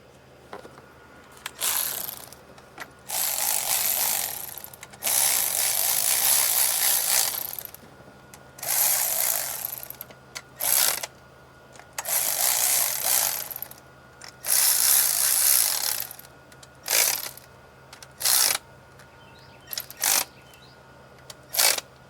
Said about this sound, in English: I'm gonna start tightening these hold downs